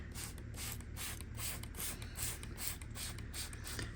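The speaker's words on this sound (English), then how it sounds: "And I'm just gonna spray it and just let it dwell." Rapid repeated pumps of a trigger spray bottle applying tar remover to a car, about a dozen quick spritzes in a steady rhythm, close by and moderately loud.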